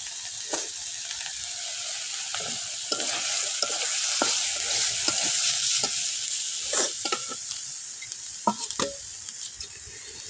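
Spices being fried and stirred into hilsa fish curry with banana, a steady sizzle with repeated scraping and clinking of the stirring spoon against the pan, close and continuous with no talking.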